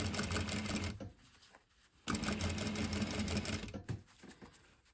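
A sewing machine runs in steady bursts of rapid stitching, sewing close to a folded fabric edge lined up against the presser foot. Two long runs of stitching are separated by a short pause and end in a tapering stop.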